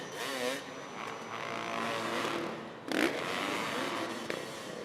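An endurocross dirt bike engine revs in a firewood obstacle section during an amateur main event, a buzzing motor rising and falling with a sharp burst near the middle, mixed with scraping and a commentator's voice.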